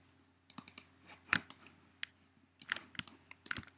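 A computer mouse clicks close and crisp in a quiet room during 3D modelling work on a tooth, with several sharp clicks, some of them in quick pairs, spread across a few seconds.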